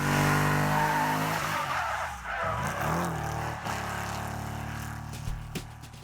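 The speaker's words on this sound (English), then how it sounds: "He does things with cars that challenge the laws of physics, like this sweet 360-degree drift." Tires squeal and skid loudly as a car spins through a 360-degree drift, a long harsh screech under the engine's roar that fades toward the end.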